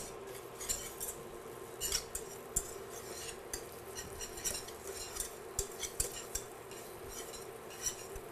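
A melting cheese mixture with pepper whisked quickly in a bowl or pan, rapid clinking and scraping of a utensil in a busy, irregular rhythm, fairly quiet with no talking.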